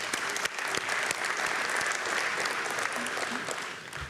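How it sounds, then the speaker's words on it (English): A symposium audience at an ESCRS 2025 ophthalmology meeting applauds in a steady, dense patter of many hands clapping in a large hall, sustained throughout at moderate volume. "please bring a round of applause to Rayner for finally bringing something different to this amazing market."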